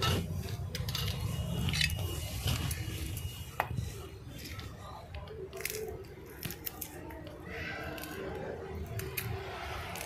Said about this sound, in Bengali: এবার মটরশুঁটি এক এক করে ছাড়িয়ে নেব।